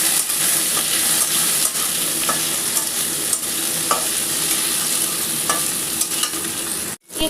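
Tomato goes into ginger paste and a whole-cumin tempering in a hot pan, a loud dense sizzle with stirring scrapes throughout, cutting out briefly near the end.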